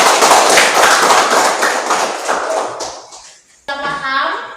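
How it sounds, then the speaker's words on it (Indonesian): A classroom of pupils claps together in a short, rhythmic burst that fades out, then a teacher's voice follows. "Tepuk tangan dulu."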